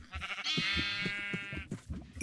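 A sheep bleats in the video game Minecraft, one clear, wavering bleat of about a second, close and fairly quiet, set against soft rhythmic game sounds with no talk.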